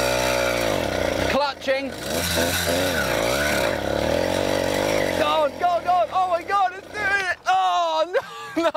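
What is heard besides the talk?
50cc petrol mountain bike engine revving on climb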